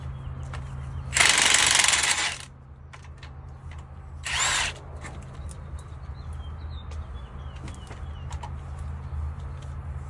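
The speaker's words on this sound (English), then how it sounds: "we will take off these caliper bracket bolts in the back" A power tool on the rear brake caliper bracket bolts, fired off during a rotor and pad replacement: two loud, close whirring bursts, the first about a second long and the second shorter, over a steady low hum with faint birds.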